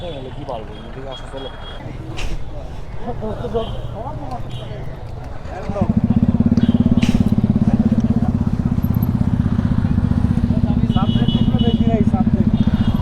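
Motorcycles ride in numbers along the road to Sajek. A low engine drone runs beneath people talking, then grows louder and steadier partway through as a bike rumbles close by.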